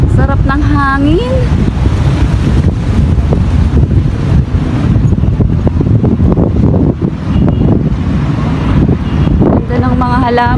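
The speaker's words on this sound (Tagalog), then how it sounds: "Sarap ng hangin." Wind gusts buffet the microphone outdoors beside a building in the Freeport area of Bataan, a steady low rumble lasting throughout, with a person speaking over it now and then.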